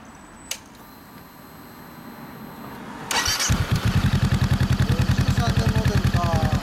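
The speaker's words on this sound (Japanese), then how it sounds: "エンジン音聞かせてもらえる？" A 2013 Honda CBR400R fitted with a Moriwaki muffler starts after a quiet pause. It catches abruptly, then settles into a loud, steady, throbbing idle close by.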